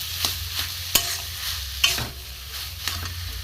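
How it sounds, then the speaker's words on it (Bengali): Grated potato and soybean paste are worked into a spiced masala in a pan for soybean chops: a steady sizzle broken by about five firm spatula scrapes and knocks close by. "আলু গ্রেট করা, সোয়াবিন পেস্ট করা আলুকে দিয়ে দেবো, ভালো করে কষিয়ে নেব"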